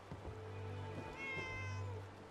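A cat in the video game Fallout 4 Far Harbor gives a single drawn-out meow, clear and moderately close, with no speech over it.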